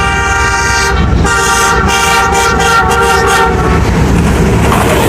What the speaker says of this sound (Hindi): ये कोई डाउन ट्रेन आ रही है